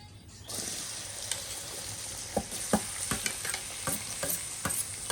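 Onion, tomato, green chilli and masala frying in hot oil while cooking spicy green bombil fish fry, a steady close sizzle broken by several sharp stirring scrapes and clicks, no voices.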